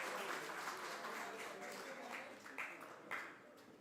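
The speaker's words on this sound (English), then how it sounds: "let's give them a round of applause for their wonderful discussion" Applause for a panel discussion at the Nepal UK Economic Partnership Forum, a steady, fairly faint wash of clapping from an audience that thins slightly toward the end, with a couple of louder claps standing out.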